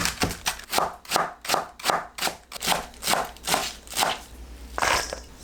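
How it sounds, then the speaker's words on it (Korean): A knife chops napa cabbage into thin strips on a cutting board for a holiday side dish, about a dozen crisp, evenly spaced strokes in a steady close rhythm with no talking. "배추를 길게 반 자르고 채 썰어주세요."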